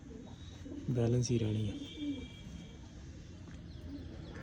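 Pigeons offered for sale in Tarn Taran, Punjab, coo in a few low harmonic bursts near the start, close by, with someone talking over them and background noise after.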